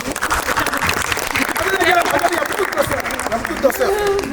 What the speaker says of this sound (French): Il faut vous applaudir.